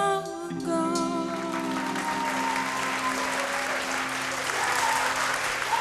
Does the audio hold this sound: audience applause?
yes